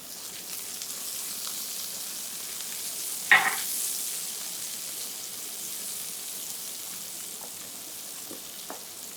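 Turnips pan-frying in olive oil over medium heat, a steady soft sizzle throughout with a brief louder crackle burst near the start as oil is added.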